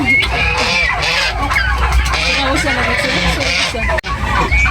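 One-month-old turkey poults chirping and clucking close by, busy overlapping calls with a brief knock near the end.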